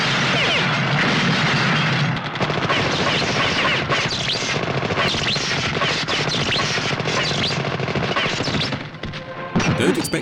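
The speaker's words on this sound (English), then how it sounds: "when the Terminator gets blown up by a bus, it's RoboCop who emerges from the explosion" A dense, loud barrage of explosive blasts and gunfire-like bursts from a low-budget RoboCop rip-off film scene, continuous rumbling crashes filling the whole stretch.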